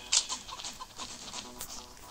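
Chickens cluck softly in the video game Major Mayhem, faint repeated clucks over low background game noise.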